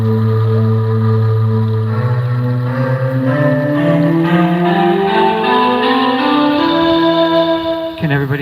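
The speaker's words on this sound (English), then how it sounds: "Hydrolophones are only loud underwater." A hydrolophone, a water-based musical instrument, played in a live symposium demonstration, giving sustained, whale-like tones that glide and step upward in pitch, loud and continuous with no talk.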